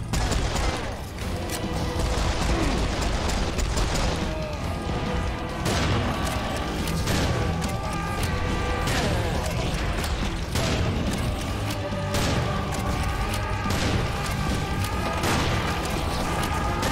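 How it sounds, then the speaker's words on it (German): Explosions and heavy gunfire roar through a Serious Sam 4 battle, a dense, loud barrage of repeated blasts and booms continuing without pause. "Oh, das war eine krasse Explosion."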